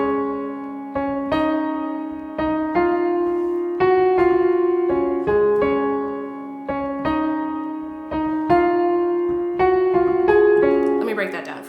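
Piano playing the bridge riff of a worship song, repeated chords and melody notes in a steady flowing rhythm, close, clear and alone.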